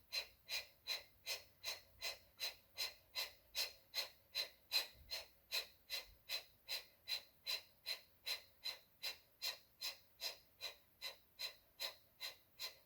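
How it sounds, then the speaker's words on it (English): Rapid Kapalabhati breathing exercise: a steady train of about thirty sharp, forceful nasal exhales at an even quick pace, close and clear, with no talking. "Coming into 40 Kapalabhati breaths real fast."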